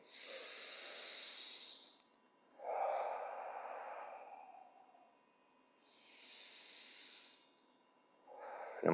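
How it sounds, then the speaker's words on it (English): Slow, deliberate crocodile breathing during a chair yoga session: breathy, hissing inhales and long exhales, close and quiet, with gaps between breaths and no talking. "Nice inhale, continuing to use that crocodile breath."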